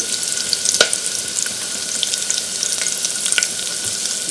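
Sliced onion, two dried red chilies and curry leaves sizzle steadily in hot oil, a bright constant crackle close by with a few soft stirring clicks and no voices.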